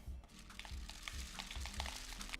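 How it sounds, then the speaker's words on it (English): Rice grains are poured into a paper tube rain stick, giving a faint, steady rattling hiss close by, like light sizzling. "I'm gonna take my rice and pour it in."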